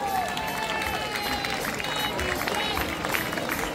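An audience at a youth football team presentation claps steadily for the under-15 players, a dense wash of applause and crowd murmur with voices mixed in.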